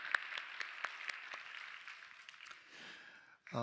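A church congregation at a Friday evening worship service claps together in a loud, dense round of applause that holds steady, then thins and dies away near the end, with no talk over it.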